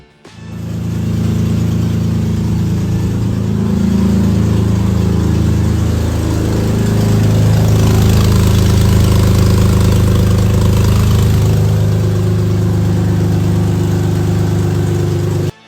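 A Lexus engine idles steadily and loudly in a garage for the whole stretch, a continuous low rumble with a constant even pitch and no voices.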